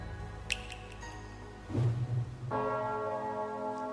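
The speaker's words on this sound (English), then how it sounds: "The bell tolls for thee." A deep bell tolls in the video game Trails of Cold Steel III, one resonant strike ringing out and sustaining over a soft musical background, with a few faint chimes earlier.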